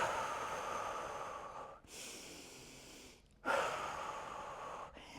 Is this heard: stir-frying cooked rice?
no